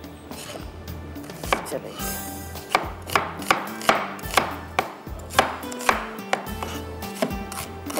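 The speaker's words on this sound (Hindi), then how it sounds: "इसी तरह से टमाटर भी काट लेंगे।" Knife chopping tomatoes finely on a cutting board, steady sharp knocks landing roughly twice a second over faint background music, close and clear, while preparing achari biryani.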